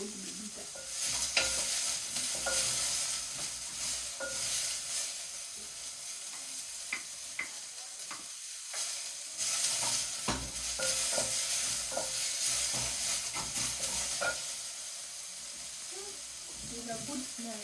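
Onions frying in a pan for Kenyan mixed greens, with a steady sizzle and hiss and repeated scraping clicks of stirring throughout, while speech is heard in places.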